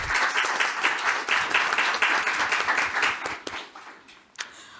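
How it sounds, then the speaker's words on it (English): An audience at a Washington, DC community college economic development event claps to welcome a panel, a dense burst of applause that holds for several seconds, then thins out and tails off. "So please welcome our amazing panel and give them a nice round of applause"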